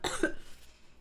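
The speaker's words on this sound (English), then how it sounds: "My throat is very dry and tickly, so I keep having to cough." A single short, dry cough from an irritated, tickly throat, close and fairly quiet, alone without speech.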